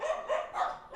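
Several dogs bark and yip in quick bursts, fairly close, with three or four rising calls across a short, busy stretch and no talk over them.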